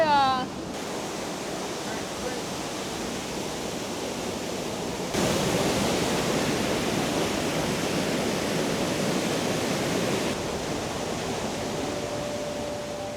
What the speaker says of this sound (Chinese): 我们的车停在了一个瀑布的这边